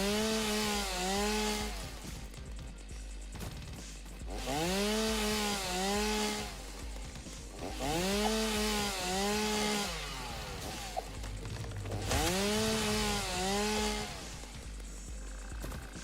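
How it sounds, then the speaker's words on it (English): Chainsaw cutting wood in the video game Satisfactory, four long revving bursts with rising and falling whine, loud and close, broken by brief pauses and a steady low hum underneath. "Alright, more chainsaw."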